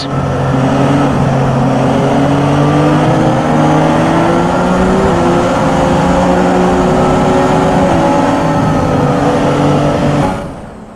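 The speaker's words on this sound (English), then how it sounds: "go through all the gears if you can" An F1 race car in the F1 2017 game climbing through the gears, a loud, steady high-pitched engine whine rising and dropping with each shift, then cutting off abruptly at the end.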